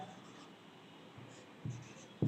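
Chalk or marker writing on a board during a history lesson, faint scratchy strokes with a couple of louder taps near the end against quiet room tone.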